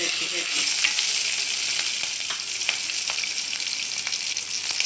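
Peppercorns and green chillies fry in hot oil with a loud, continuous hissing sizzle, broken by scattered sharp pops and crackles. No one speaks.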